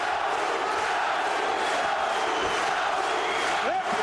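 A roaring arena crowd at a K-1 kickboxing fight, loud and sustained with shouts rising out of the din.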